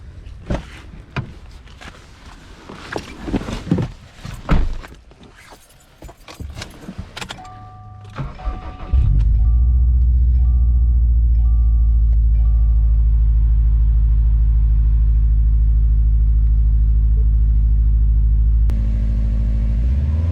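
A 2019 Subaru WRX STI is started in snow: keys jangle and interior clicks, then the engine catches at about nine seconds into a loud, steady low rumble that holds to the end.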